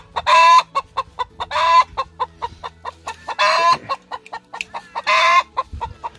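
A broody hen clucks repeatedly up close, a rapid rhythmic series of short clucks broken by several longer, drawn-out squawking calls, with no talking.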